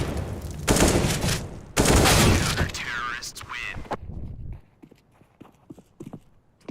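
Gunfire in Counter-Strike: Global Offensive: two loud, dense bursts of shots in the first few seconds, then quieter scattered clicks and taps as the action dies down.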